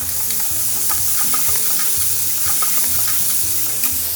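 Sweetened kimchi dusted with sugar is stir-fried in a pan, giving a continuous hissing sizzle broken by quick, repeated scraping and clacking strokes of the stirring utensil, close and fairly loud.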